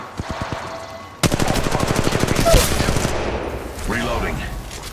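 Rapid automatic gunfire from a squad in Apex Legends Mobile bursts in loud and close, sustained for several seconds after a brief quieter stretch.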